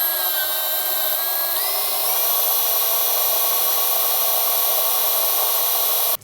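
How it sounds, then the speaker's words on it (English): Power drill with a metal bit boring through a silver spoon into a cedar plank, a steady high-pitched whine that steps up in pitch partway through, running continuously and close before cutting off abruptly at the end. "I use a bit that's made for metal and hold it securely in place."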